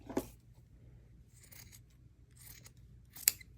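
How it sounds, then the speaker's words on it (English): Scissors cutting ribbon for a fabric Christmas journal, a few quiet close snips spaced apart in a near-silent room. "So I'll cut my ribbon"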